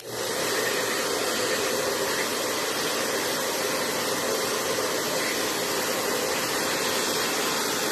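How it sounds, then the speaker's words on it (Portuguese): Hair dryer blowing steadily on a glued decorative box lid, a constant close whooshing hiss that runs for the whole stretch with no talk. "Só deixa eu soltar aqui com o secador, que a tampa tá bem coladinha."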